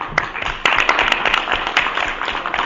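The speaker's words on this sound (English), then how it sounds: "So I'd like to give them a round of applause and say thank you." A room at a Nashville MTA WeGo Public Transit board meeting fills with steady applause for the board members, many hands clapping at moderate volume throughout.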